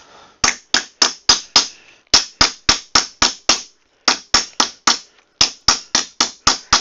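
A metal hammer strikes sheet metal in steady groups of ringing blows while dishing and planishing a bowl shape, the workpiece pushed inward. Sharp, close taps with short pauses between runs, no talking.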